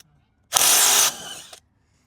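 A Bosch impact wrench loosening a very tight nut gives one loud, near burst of hammering that lasts about half a second, then drops to a quieter whir and cuts off.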